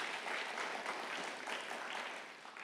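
Church congregation at a Christmas Sunday service applauds, a steady, dense wash of many hands clapping at moderate distance, sustained without pause and easing slightly toward the end.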